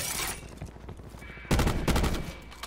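A two-round burst weapon fires in Black Ops 4 during a Control match: loud, close, crackling shots arrive in quick clusters over ongoing battle noise, with a sharp burst kicking in midway.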